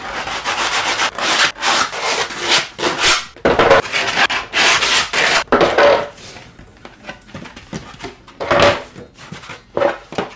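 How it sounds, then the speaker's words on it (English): Hand sanding of a screen-accurate stormtrooper armour left thigh piece, heard as repeated scraping strokes in uneven bursts with short pauses, close and fairly loud with no talk. "More sanding, and we're going to be in a position to offer these up together."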